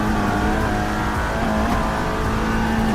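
Race car engines from a sim racing game, a virtual 24-hour Nürburgring TCR touring car series race, drone steadily and loudly throughout, with a sustained engine tone shifting pitch as cars run.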